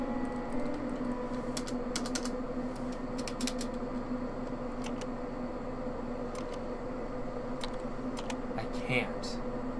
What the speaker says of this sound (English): Yes, I can tell because I'm typing on the keyboard.